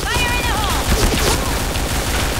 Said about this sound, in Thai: AK เนี่ยยิงเน้นยิงตัวนะครับ